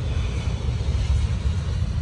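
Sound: KLM plane from Ecuador at Schiphol Airport

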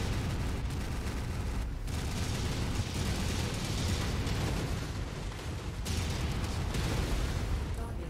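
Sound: missiles hitting an enemy in the video game Feral Moon

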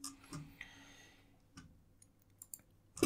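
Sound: computer mouse click

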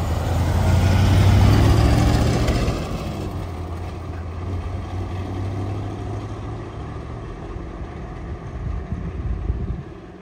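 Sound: 1970 Chevrolet Corvette L46 engine idling with a cam

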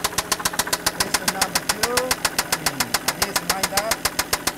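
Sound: loud engine knock in 1997 Toyota Land Cruiser

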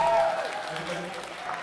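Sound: wedding guests applauding the couple

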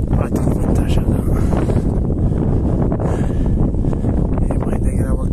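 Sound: wind

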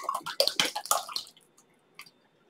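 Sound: salad dressing poured into a glass jar

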